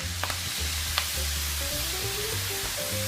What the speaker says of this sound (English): We're gonna go ahead and add our beef broth.